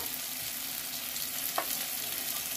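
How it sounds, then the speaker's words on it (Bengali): Garlic paste and tomato fry together in a pan for a Bengali crab curry, giving a constant close sizzle with a single clack of a spoon partway through. "টমেটো আমার ভাজা হয়ে গেছে, এর ভিতর দিয়ে দেবো আমি রসুন বাটা"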